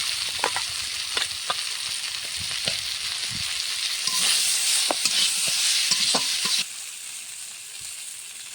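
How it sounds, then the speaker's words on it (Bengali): Jackfruit seeds frying in a pan, a close, continuous sizzle broken by repeated scraping and clinking as a spatula stirs them, easing slightly toward the end. "তো দেখো কাঁঠালের দানাগুলো ভাজা ভাজা হয়ে গেছে।"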